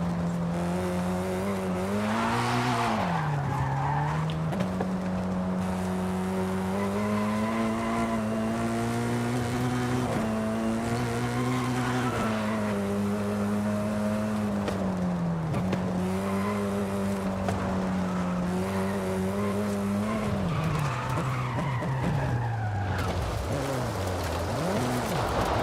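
A car carrying a swapped-in Nissan 2-liter engine drifts in Forza Horizon 5, the engine droning steadily with pitch rising and falling as it revs through long slides, loud and continuous for the whole stretch with no talking.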